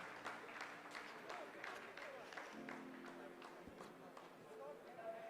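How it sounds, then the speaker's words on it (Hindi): Scientists in mission control applaud during the Chandrayaan-3 lunar soft landing, a steady crowd clapping heard faintly beneath a commentator's voice. "आप इस तालियों के गड़गड़ाहट को सुन सकते हैं"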